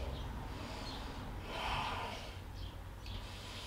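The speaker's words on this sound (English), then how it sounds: "Taking a few breaths." Slow, audible breaths drawn in and out through the nose while sitting back on the heels in a front-split yoga flow, close and soft, with one stronger inhale in the middle and no talking.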